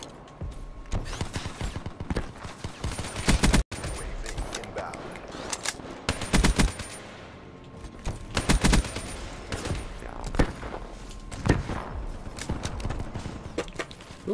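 Bursts of rapid gunfire crackle through a video game match, volleys coming in clusters at varying distances amid other game noise, with no talking.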